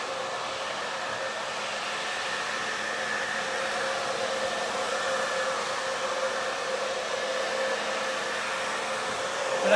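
Hair dryer fitted with a diffuser blowing steadily on short layered hair in a salon, a constant close whirring hiss that holds level for the whole stretch with no talking.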